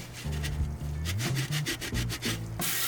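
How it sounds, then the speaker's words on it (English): A sponge scrubs the oven-cleaner-coated interior of a Weber Q grill, giving close, rhythmic back-and-forth rubbing strokes that speed into a quick run of short scrapes, then end in a brief burst of water-like hiss. "Scrub it down once again with your sponge."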